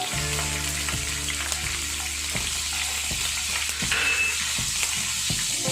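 Chopped green chilies frying in hot oil, a steady crackling sizzle with occasional stirring knocks from a utensil against the pan, close and continuous, no voices.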